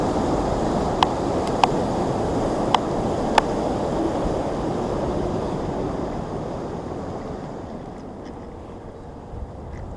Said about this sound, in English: A lot of power, a lot of water, power in that water.